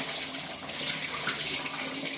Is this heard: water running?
yes